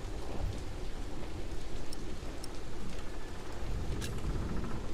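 Heavy rain falls steadily in a thunderstorm from the video game Die Säulen der Erde, a dense continuous hiss with low thunder rumbling underneath, loud and close, with no speech.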